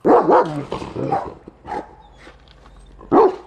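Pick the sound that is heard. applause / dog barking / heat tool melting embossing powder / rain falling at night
dog barking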